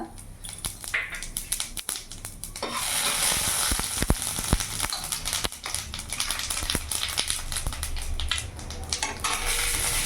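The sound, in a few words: bay leaf, dried chilli, cumin, garam masala sizzling in oil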